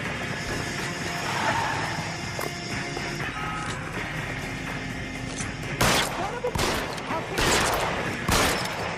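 Gunfire in the L.A. Noire video game during a traffic desk pursuit, several sharp shots cracking out late under a steady engine and street background, with someone talking over the action.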